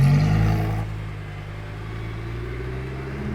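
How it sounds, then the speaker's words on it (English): A Pagani Utopia Roadster's naturally aspirated V10 revs loud and close at first, then settles after about a second into a steadier, lower engine drone. "I heard the natural aspirated V10 and I had to stop a bit more."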